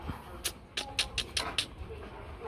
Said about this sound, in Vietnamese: Chó nó nhanh nhẹn.